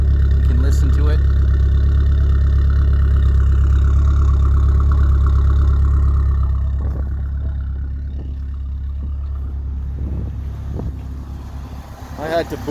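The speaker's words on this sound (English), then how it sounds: "that's her idling right there after about 3-4 minutes of idling" A 1986 Dodge Daytona Turbo engine idles after a few minutes of running, a steady low rumble that softens midway, a few faint knocks and voices appearing near the end.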